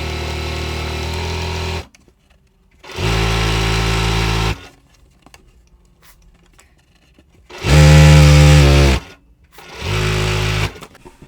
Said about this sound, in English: I'm sewing my strip set together, fabric C and fabric F, right sides together with a 1/4 inch seam all the way down.